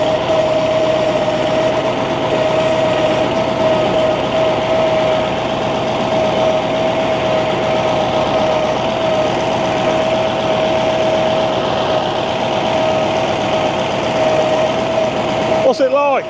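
A 47-year-old Ford FW30 articulated tractor engine runs steadily and loudly throughout, a constant droning hum with a strong steady tone, ending with a brief burst of extra noise.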